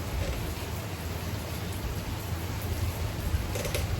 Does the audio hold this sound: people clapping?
no